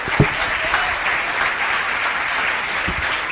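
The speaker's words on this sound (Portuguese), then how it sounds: "Aplauda mais forte ao Senhor, por favor." A church congregation claps for the Lord during a worship service, producing a loud, continuous roar of applause from a packed room that stays dense and even, with a few louder thumps near the start and end.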